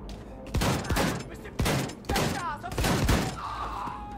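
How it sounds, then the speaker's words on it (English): Shotgun blasts in the Wolfenstein II video game, several loud, sharp booms fired in an irregular sequence with brief pauses, each followed by short crashing and debris sounds, with a voice talking between shots. "This shotgun is dope"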